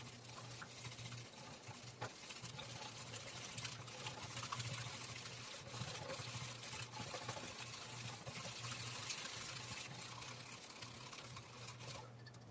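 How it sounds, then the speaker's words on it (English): A bamboo chasen whisks matcha tea in a bowl, giving a steady, fast scratchy swish that runs continuously at close range with no voices. "we'll take our chasen and start to whisk up the matcha"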